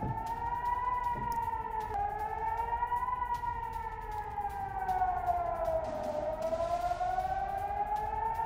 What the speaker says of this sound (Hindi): इजराइल में एयर अटैक के सायरन बजने शुरू हो चुके हैं